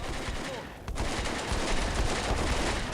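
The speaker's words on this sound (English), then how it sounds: "Bullets will fly, of course." Rapid gunfire crackles in Combat Mission: Beyond Overlord, a dense fusillade of overlapping shots and machine-gun bursts after a brief lull, loud and continuous.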